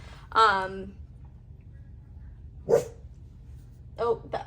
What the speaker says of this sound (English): my dog's over here barking